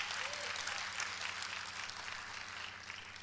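An audience claps in a broad, continuous wash that sits under a low steady hum and stays moderately loud throughout, fading slightly toward the end.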